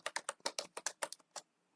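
Typing on a computer keyboard: about a dozen quick, crisp keystrokes in an irregular burst, close and fairly quiet, then stopping into silence.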